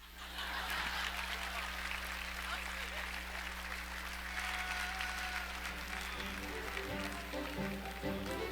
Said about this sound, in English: Can we get another round of applause for that dunk?